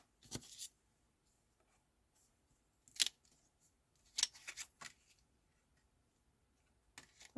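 Paper for cardmaking being cut with scissors, a few short crisp snips in separate bursts, close and quiet with long pauses between.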